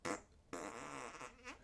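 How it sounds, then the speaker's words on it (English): Two loud, wet raspy blasts from a Pooter fart sound toy, a short burst followed by a longer sputtering, fluttering squeak that trails off, with no talking. "You get those lower tones versus those farts, which, just aren't as funny."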